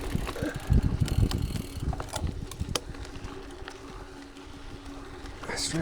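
A bicycle rolls off-road on gravel with tyres at 30 psi, a rough crunching rumble with scattered clicks and rattles of the bike's mechanism, heavier at first and then steadier, close and with no clear talk.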